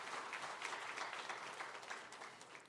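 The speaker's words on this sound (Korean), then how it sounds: "우리가 일어나신 분들께 다시 한번 감사의 박수 하겠습니다." A church congregation at a Sunday service claps in thanks, a dense sustained round of applause that sounds quiet and distant.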